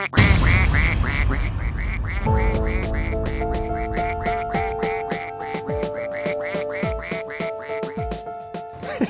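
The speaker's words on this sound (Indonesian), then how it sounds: "Kenapa rekaman suara Tante Lisa jadi suara bebek?" Repeated duck quacks play back from a voice recording that was meant to hold a person's voice, a dense run of loud nasal calls at first, then rhythmic quacks over a steady tone.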